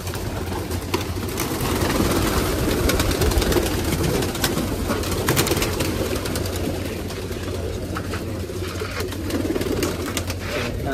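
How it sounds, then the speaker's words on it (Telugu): Pigeons cooing in a home garden, with soft repeated coos and bird calls set against a steady low engine-like hum that runs throughout. "ఈ ఒక రకం పావురాలు చూపిస్తాను చూడండి."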